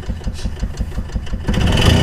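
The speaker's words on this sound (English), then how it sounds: "Oh, we got a belt slippage or something. We got to figure out what that noise is, Jim" Engine of a GMC Safari van running rough with a possible slipping belt, a loud pulsing chug that swells into a harsher, busier roar near the end, with no talking.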